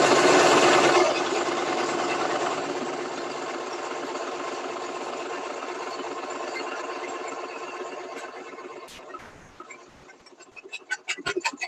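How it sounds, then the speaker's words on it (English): A sewing machine runs steadily, stitching fabric around the border of a bowl cover with a continuous mechanical whir that slows and stops near the end, followed by a few separate clicks. "You can go ahead and keep sewing all around your project to give it that little border"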